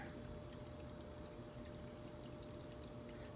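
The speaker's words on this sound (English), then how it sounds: "As you can see, there's water flowing." Water rushes steadily through a drain pipe, a continuous broadband wash with a faint hum and no talking.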